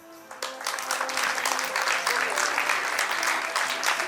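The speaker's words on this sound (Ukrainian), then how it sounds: "Дякуємо вашій овації" A crowd at a football club's awards ceremony breaks into sustained applause, dense and even clapping that swells quickly and carries on for several seconds at moderate distance.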